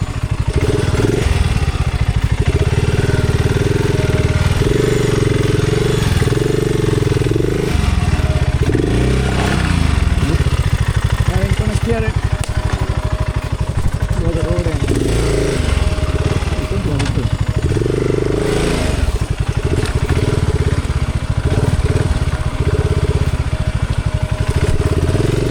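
A BSA Scrambler 650 single-cylinder motorcycle being ridden, its engine a loud, steady, throbbing drone close by, rising and falling slightly with the throttle, with someone talking over it throughout.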